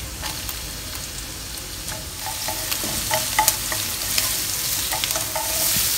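Thinly sliced onions and chopped garlic fry in about a tablespoon of oil, a constant crackling sizzle with scattered clicks and scrapes of stirring, close and fairly loud, no voices.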